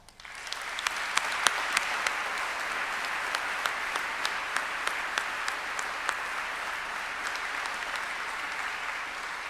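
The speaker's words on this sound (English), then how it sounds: "take this opportunity to show them your appreciation with a round of applause" A large graduation ceremony audience gives a sustained round of applause: dense, steady clapping that swells quickly and holds evenly, with a few sharper individual claps standing out.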